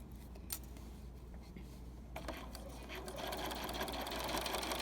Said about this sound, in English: So I'm going to stitch along here.